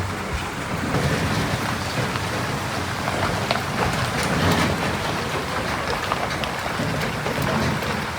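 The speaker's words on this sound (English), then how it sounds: "it's still pouring rain" Steady heavy rain pours down in a dense, unbroken hiss, with no voices.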